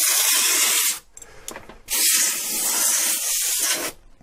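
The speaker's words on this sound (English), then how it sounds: "you're going to want to spray these side vents." Two long, loud hissing bursts of compressed air spray close by into a computer's side vents, separated by a short pause with faint rattling.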